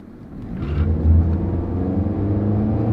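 A 2011 Nissan Rogue with a CVT accelerates from a stop, the engine droning up to a steady high pitch without gear shifts, loud and close from inside the cabin.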